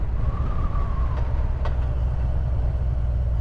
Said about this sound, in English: I hate traffic!